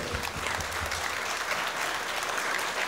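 Wedding guests in a reception hall applaud the newlyweds, a dense, steady burst of clapping from a crowd that carries on evenly throughout.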